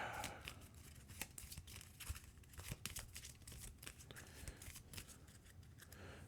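Regular path deck of game cards being shuffled on a tabletop, a rapid run of crisp riffling and snapping flicks close by, repeated in bursts with no talking.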